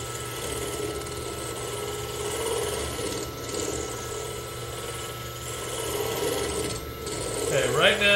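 A McNaughton scraper with a straight bar hollows the inside of a wooden hollow form on a lathe, giving a steady, dense scraping rasp that runs nearly unbroken with small swells and a slight rise near the end.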